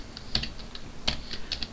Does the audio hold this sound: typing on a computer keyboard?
yes